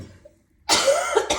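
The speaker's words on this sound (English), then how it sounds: "Excuse my coughing" A person coughs in a short burst of about two harsh hacks, close and loud, following a brief quiet pause, with no speech.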